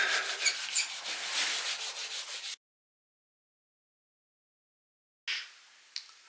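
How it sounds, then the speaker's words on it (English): Oil finish being rubbed by hand into a Telecaster kit guitar body, a steady close scuffing rub for about two and a half seconds, then silence, then a brief resumed rubbing with a small tap near the end. "Okay, let's start rubbing."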